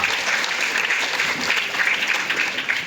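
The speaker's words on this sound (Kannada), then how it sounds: "ಜೋರಾದ ಚಪ್ಪಾಳೆಯೊಂದಿಗೆ ಧನ್ಯವಾದಗಳನ್ನು ಸಲ್ಲಿಸೋಣ" Loud, dense applause from an audience at a police anti-drug awareness event, steady sustained clapping filling the hall without a break.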